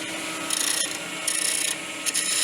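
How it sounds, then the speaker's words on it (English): A 3/4 inch spindle roughing gouge cuts a spinning wooden spindle on a lathe while shaping a finial, giving a steady raspy scraping with a few short, sharper surges of cutting. "What I usually do at this stage is I use my 3/4 inch spindle roughing gouge."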